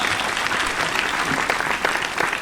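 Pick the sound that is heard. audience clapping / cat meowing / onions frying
audience clapping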